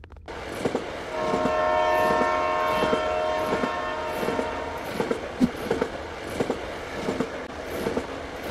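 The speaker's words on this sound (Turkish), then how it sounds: "Treni çalıştıracağım ben bekle" A train in the Prison Life 2 video game starts up with a sustained horn blast and a rhythmic clickety-clack of wheels on rails running steadily throughout.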